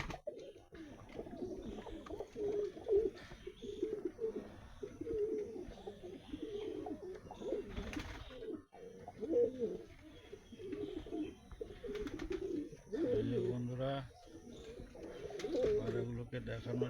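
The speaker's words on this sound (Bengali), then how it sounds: "গিরিবাজেরও বিভিন্ন জাতের পায়রা রয়েছে।" Several Giribaz pigeons of various breeds, all males, coo in a loft, with low repeated cooing phrases close by that recur throughout, partly under a voice talking.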